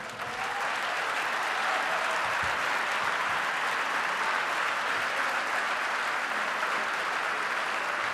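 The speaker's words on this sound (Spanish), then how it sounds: "Le damos la bienvenida a Noam Chomsky con un fuerte aplauso" Sustained applause from a large audience, dense even clapping that holds steady throughout.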